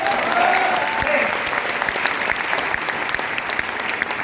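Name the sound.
audience clapping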